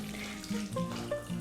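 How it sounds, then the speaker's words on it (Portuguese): Warm water pours from a tap or container over cheese curd in a pan on a stove, a short close splashing trickle with no talking. "Aqui no fogão nós vamos adicionar água morna até cobrir."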